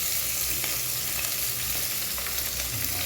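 Large onions frying in hot oil for a drumstick thokku, a dense continuous sizzle with faint scraping of stirring underneath, close and steady throughout.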